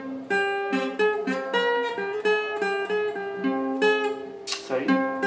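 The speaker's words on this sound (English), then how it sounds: "So the whole riff slowly sounds like this." A guitar plays the full riff of a song slowly and alone, plucking clear ringing notes in a steady repeating pattern at moderate loudness.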